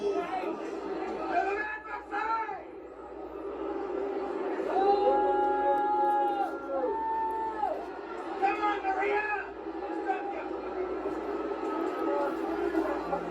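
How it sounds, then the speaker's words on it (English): A wrestling crowd at a live event boos a performer, a broad sustained roar with rising and falling shouts and whoops, heard from within the audience amid chatter. "You hear him getting booed"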